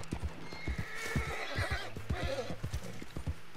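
Horse neighing over rapid rhythmic hoofbeats in a video game, close and steady, with a whinny rising partway through.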